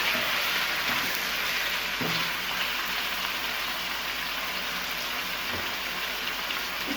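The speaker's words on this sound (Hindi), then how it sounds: "फ्लेम को हाई करके इसको फ्राई करेंगे" A 1.5 kg batch of chicken frying in oil over a high flame for karahi gives off a steady, dense sizzle with occasional faint clinks, even and unbroken throughout.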